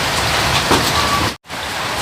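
Rain falling steadily as a dense, even hiss close by, broken by a brief cut to silence partway through.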